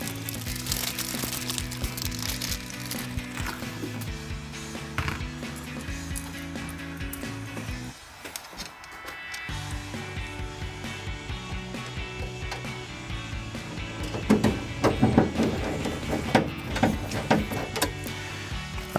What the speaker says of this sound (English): practically half turning all of these screws in